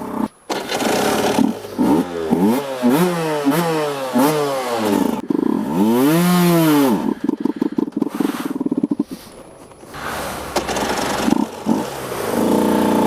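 A 125cc sport motorcycle, a KTM RC125 or Aprilia RS125, revs loud and close. The engine climbs through repeated rising sweeps, then falls, revs again and cuts out with sputtering breaks as the gears shift.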